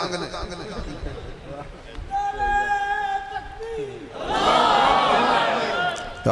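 A crowd at a religious sermon on Hajj in Sankhtra, Narowal suddenly erupts in loud, unified slogan chanting for its last two seconds, after a stretch of a preacher's raised voice.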